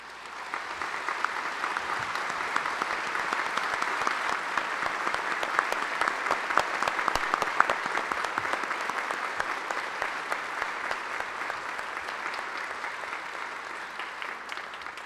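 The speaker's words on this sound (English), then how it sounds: "I'd love for us to all give them an applause." Sustained audience applause at a Day of Remembrance ceremony at Kennedy Space Center Visitor Complex, many hands clapping steadily and densely for the whole stretch at an even, fairly loud level with no voices on top.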